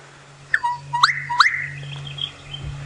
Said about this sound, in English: That is the call of a gorgeous bush shrike.